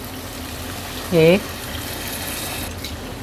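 Water is poured into a cooking pot of arvi gosht curry, a brief liquid splash and fill lasting under a second, heard near amid faint background noise after a short spoken word.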